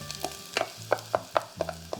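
Garlic sautéing in a hot electric lunchbox, soft sizzle punctuated by a series of light clicking taps from stirring, close and fairly quiet.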